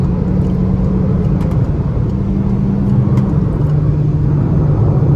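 Cabin of a 2022 Peugeot 208 Allure 1.6 automatic overtaking a truck on the road, a steady loud engine drone and road rumble with a sustained low tone and no pauses.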